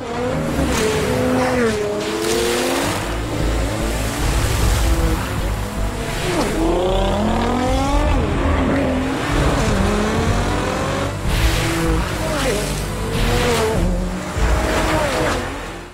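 Street race cars speed through the rain in a loud, continuous roar of engines with squealing tires and a wet rushing wash, close and relentless throughout.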